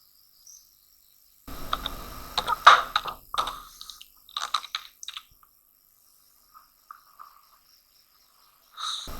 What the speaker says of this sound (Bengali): ব্রাউজারটি ওপেন করার পর এখানে লিখব গুগল ট্রান্সলেট এক্সটেনশন।